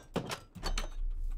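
Heavy door in Minecraft opened with a lever, a few quick mechanical clunks and rattles followed by a low rumbling slide, close and short.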